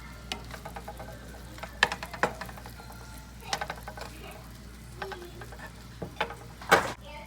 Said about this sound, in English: So once that's in the pan, we're gonna stir it all together